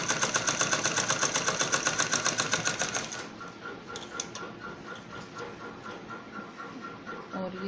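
An electric sewing machine stitching a straight seam on a kids' romper, fast rhythmic mechanical chatter for about three seconds, then stopping, leaving faint handling noises and quiet rustling.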